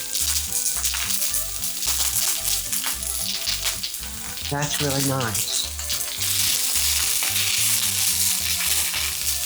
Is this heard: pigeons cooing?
no